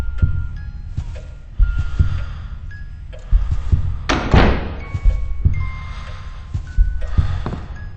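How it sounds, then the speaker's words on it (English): In a Roblox Halloween event game, a deep heartbeat throbs in low, repeated thuds under heavy breathing, with rain and a creepy music box faintly behind it. "Our own heavy breathing, our own heart beating, the rain, a creepy music box."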